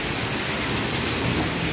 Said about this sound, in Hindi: मुझे तो पता ही नहीं था कि इतनी भयंकर बारिश आएगी।